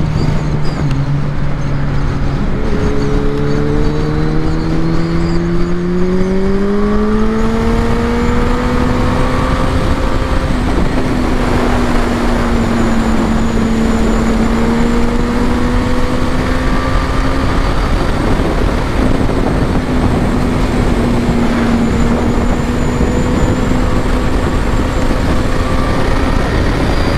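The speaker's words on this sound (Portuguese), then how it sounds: "A moto é violenta." A Suzuki B-King 1340cc motorcycle is ridden hard and its engine note climbs through the gears, a loud continuous roar with wind rush that carries on throughout.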